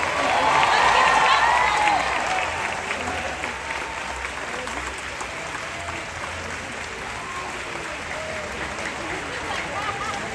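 Audience applause at the Disney's Hollywood Studios 35th Anniversary Ceremony, a loud sustained wash of clapping from a large outdoor crowd that swells at first and then settles to a steady level, with scattered cheers.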